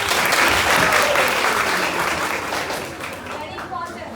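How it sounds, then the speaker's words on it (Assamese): A class at a college in Halakura gives a big round of applause, many hands clapping in a dense, loud, continuous burst that slowly thins out over a few seconds. "so a big round of applause for everyone"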